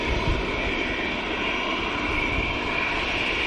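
An EasyJet airliner passes at Manchester Airport with a continuous engine roar and a high whine held steady throughout, loud and unbroken.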